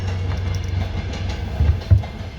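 Train passing nearby, a steady low rumble with rail clatter and a couple of heavier thumps near the end, continuous and fairly loud with no voices.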